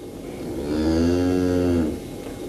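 A single long, loud cow moo swells and fades over about two seconds, close and clear, from cattle kept on a farm near Fukushima.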